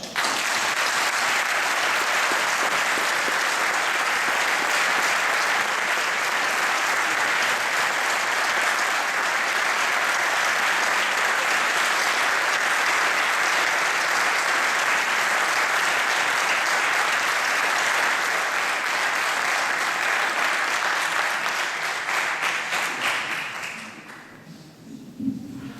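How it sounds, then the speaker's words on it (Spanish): Sustained, loud audience applause fills a solidarity gala for the mining community, a dense steady clapping from a large crowd lasting over twenty seconds before tapering off and fading out at the end. "La familia de Samira se merece un más que reconocido aplauso."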